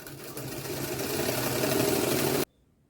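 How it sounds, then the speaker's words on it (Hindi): A sewing machine runs a continuous stitch along the side seam of a pair of Afghani-style pants, a close steady whirr that stops abruptly, leaving near silence. "हमें अप टू एंड सिलाई लगाते हुए साइड फिटिंग कर लेना है।"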